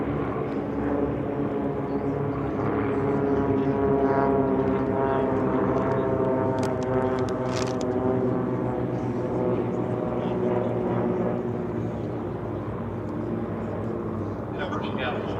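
A warbird aircraft lands on the runway at EAA AirVenture, its steady propeller engine drone sustained and fairly loud throughout, with a radio or voice talking over it.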